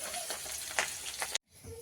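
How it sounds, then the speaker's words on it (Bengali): Onion and garlic fry in hot oil for a home chicken curry, making a close, steady sizzle with a few sharper crackles before a brief abrupt break. "আগে পেঁয়াজটা রসুনটা দিয়ে দেবো তেলে।"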